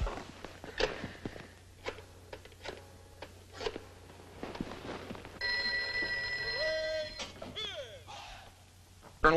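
A telephone rings in an office in a 1976 thriller film, repeated bright bell bursts following scattered footsteps and handling knocks nearby, with a voice speaking briefly.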